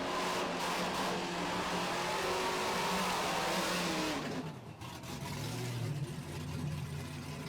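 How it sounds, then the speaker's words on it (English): A 1994 stick-shift Ford Mustang drag racing down a racetrack at a muscle car event, its engine roaring loud and steady before easing off and climbing again. "His 1994 Mustang. Stick shift car. Going down the T-Mobile side of the racetrack"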